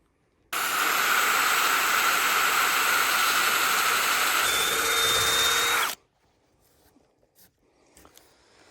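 A handheld power drill, used without a drill press, whines steadily at full speed for about five seconds, loud and close, then abruptly stops, leaving faint handling noises.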